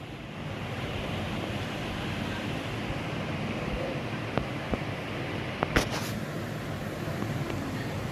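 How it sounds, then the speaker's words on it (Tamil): A steady, broad rushing roar of cyclone wind in a city-building video game, like a storm gust, with a few faint clicks and thumps over it. "ஐயோ சூறாவளியா?"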